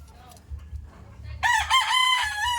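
A fighting rooster, a gamecock kept for cockfighting with its spur cut, crows loudly and close by after a short stretch of faint background noise, the crow filling the second half of the clip.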